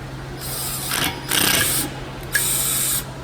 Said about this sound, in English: it's a 12 millimeter bolt that goes inside here, and this pushes the rotor out, which I'll be demonstrating right now.